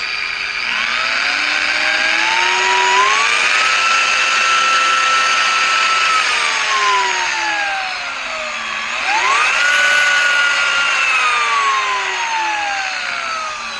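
A Flex PE14-2 150 rotary polisher runs steadily and loud with a whining motor tone, spinning up twice to a higher pitch and winding back down in between, with no talking.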